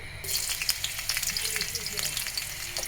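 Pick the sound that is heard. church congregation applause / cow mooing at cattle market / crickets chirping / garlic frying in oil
garlic frying in oil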